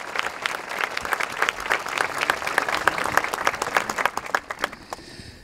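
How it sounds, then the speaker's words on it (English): Audience at a middle school graduation ceremony applauds the student singers, dense continuous hand clapping from a large crowd in a hall that tapers off and fades toward the end. "Can we give them another round of applause,"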